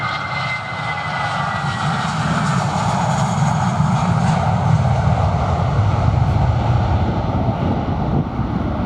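A jet airliner at London Luton on a windy afternoon, a flight bound for Tel Aviv, roars steadily and loudly throughout with a broad engine rumble and whine, no voices.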